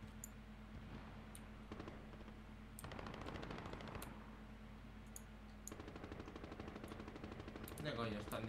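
Gunfire in the video game Call of Duty: Warzone, with repeated short automatic bursts and scattered sharp cracks, faint and distant over a low steady background hum.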